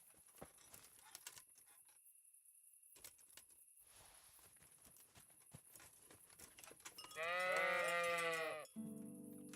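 A single sheep bleat in Kingdom Come: Deliverance, loud and wavering, rises out of quiet ambient background noise with scattered faint ticks before it.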